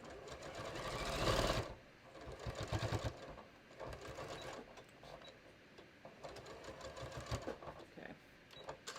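A domestic sewing machine stitches down the seam allowance on a raglan sleeve top, a loud burst of rapid stitching followed by shorter intermittent runs of the needle, close and clear.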